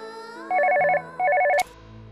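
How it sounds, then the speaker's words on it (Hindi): Telephone ringing indoors in a TV drama scene: two loud electronic trilling rings separated by a short pause, close and clear, alone without talk. "देखा, उसी का फोन है, मेरे बेटे समर का फोन है।"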